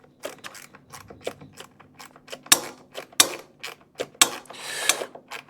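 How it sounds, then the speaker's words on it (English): A ratcheting wrench with a Phillips bit backs screws out of a Westinghouse iGen2550c generator, producing irregular clicks and small mechanical rattles with a few sharper metallic snaps, close up and without speech. "I'm just going to use a Phillips bit and a ratcheting wrench"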